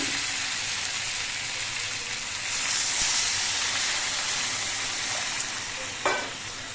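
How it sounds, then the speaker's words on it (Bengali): Water hits spices and vegetables that have been sautéed in a pan for a khoira fish curry, raising a loud, steady broadband sizzle and hiss that swells slightly midway, with a single utensil knock near the end. "মশলা দিয়ে সবজি দিয়ে বেশ কিছুক্ষণ কষিয়ে নিয়েছি এবার এর মধ্যে আমি জল দিয়ে দিচ্ছি"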